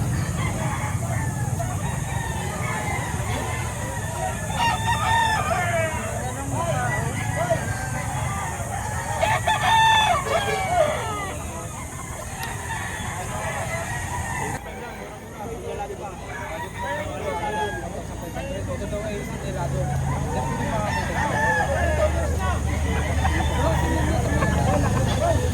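Roosters crowing again and again at a busy Saturday chicken market in Lipa, Batangas, several birds overlapping near and far above crowd babble and clucking, with people talking through much of it.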